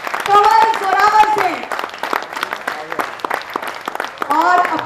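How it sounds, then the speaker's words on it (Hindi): Audience applause at a Hindi stage play, loud clapping running beneath a male announcer's voice as he calls out the cast between bursts. "जरा जोरदार तालियां हो जाए एक बारी"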